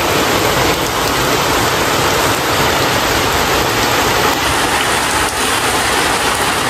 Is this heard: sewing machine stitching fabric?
no